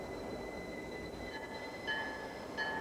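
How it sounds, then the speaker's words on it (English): A Toronto commuter train running along the line, a steady rumbling rail roar with faint wheel squeals rising above it, continuous and moderately distant with no one talking. "This is a train for people in a hurry."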